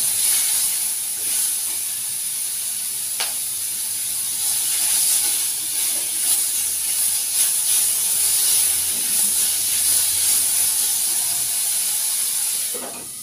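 Garlic, onion and crushed whole garam masala sizzle in hot oil with a steady, loud hiss that runs almost unbroken, close by.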